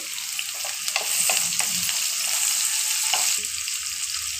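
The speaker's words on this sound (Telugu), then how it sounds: "ఉల్లిపాయలు ఎర్రగా వచ్చేంత వరకు వేపుకోవాలి." Onions and green chillies frying in a pan give off a steady, loud sizzle, with a few soft stirring knocks underneath.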